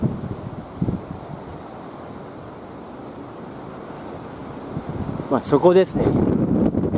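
Strong wind buffets the microphone on an exposed stairway climb at Agatsuma Gorge in Gunma, a steady broadband roar that swells into louder gusts near the end, with someone speaking briefly over it.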